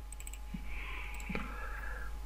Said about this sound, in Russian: Также кликаем по нашему триггеру